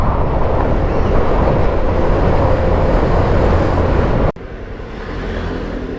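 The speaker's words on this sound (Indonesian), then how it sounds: "Ini bus-bus pariwisata mungkin dari sana tadi." Tour buses roll past on a rural road in Banten, Indonesia, a loud, steady broadband roar with wind buffeting the microphone, then a sudden cut to a slightly quieter passing rumble.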